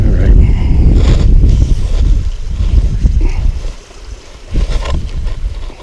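Strong gusty wind buffets the microphone beside Lonesome Lake during fly fishing, with a loud, rumbling low roar that swells and eases throughout.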